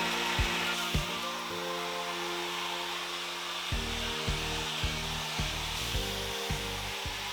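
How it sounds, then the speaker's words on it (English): Hair dryer with a diffuser attachment blowing steadily while drying wavy curly hair, a constant broadband whoosh running throughout, with faint low bumps and clicks as it moves, and no talking. "I've been diffusing my hair for about 2 to 3 minutes already"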